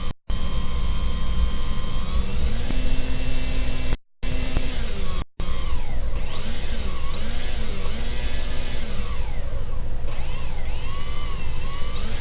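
An Arduino-built model plane's electric motor running at maximum thrust, a loud, steady whine with a broad airy roar that holds almost unbroken, cut by a few brief dropouts.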